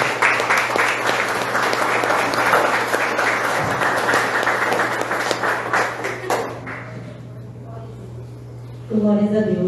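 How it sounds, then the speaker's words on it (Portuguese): A church congregation applauding during an evening service, loud dense clapping filling the room for several seconds before thinning out, with voices joining as it fades. "Aplauda o Senhor."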